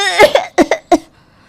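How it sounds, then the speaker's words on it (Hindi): A burst of loud, forced coughs from a woman up close, several sharp hacks in quick succession that sound put on rather than natural, then quiet. "वो जानबूझकर ज़ोर ज़ोर से खांसने की एक्टिंग करना शुरू कर देती है।"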